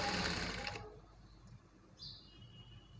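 A short, close burst of sewing machine stitching as piping goes around a garment neckline, stopping after under a second and leaving near quiet with faint small sounds.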